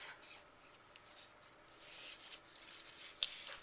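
Paper being folded to make an origami crane, soft rubbing and creasing sounds with one crisp crinkle near the end, quiet and close.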